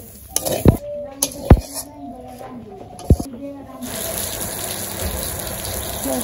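Water gushes from a shower in a village home on a hot, sunny day, a steady close rush that sets in after a few sharp metallic clinks and knocks.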